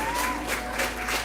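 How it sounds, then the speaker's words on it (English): Applause at a school assembly for a pupil named Leo, a steady wash of many hands clapping at moderate level across the whole moment, with no voices standing out. "So, round of applause for Leo."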